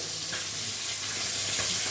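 Cumin, cardamom, clove and cinnamon crackle in hot oil left from frying fish, a loud, dense, unbroken sizzle heard close up.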